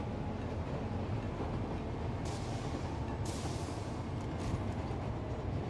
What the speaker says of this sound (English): Oh, this is a train, dummy.